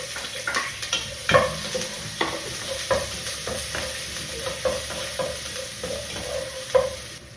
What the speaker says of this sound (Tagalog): Kaya ito na lang sa igisa ito ang kamatis.